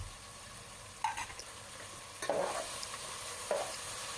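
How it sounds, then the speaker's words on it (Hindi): Cloves, black peppercorns and whole cumin frying in a pan for pulao, with a steady low sizzle and a few brief stirring scrapes near the start, middle and end. "ये सारे खड़े मसाले शामिल करने के बाद इसको अच्छे से पका लेंगे 2 से 3 मिनट के लिए"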